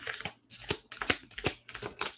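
Tarot cards are shuffled by hand in quick, close papery riffles, about five bursts in a steady rhythm with short pauses between them.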